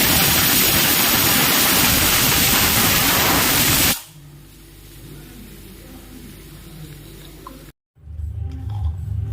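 A loud, steady hiss of steam rushes from a pressure cooker whistle for about four seconds, then cuts off abruptly, leaving a low hum and faint background noise.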